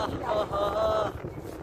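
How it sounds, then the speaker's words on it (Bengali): Sea breeze at Bakkhali beach in West Bengal buffets the microphone with loud, gusty rumbling wind noise, easing slightly toward the end, while faint voices are heard underneath. "এই দেখো এত সুন্দর হাওয়া"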